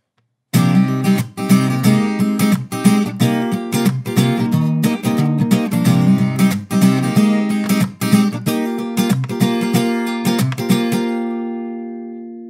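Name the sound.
guitar playing a song verse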